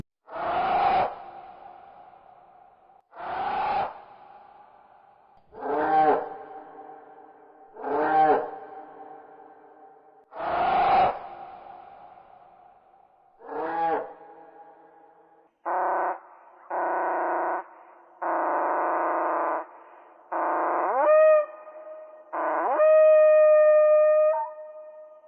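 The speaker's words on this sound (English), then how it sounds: "The Deinonychus, on the other hand, sounded like this" A reconstructed Deinonychus dinosaur call: a series of harsh, short, croaking calls spaced a few seconds apart, then several tonal honks and two rising whistle-like cries, fairly close and alone without speech.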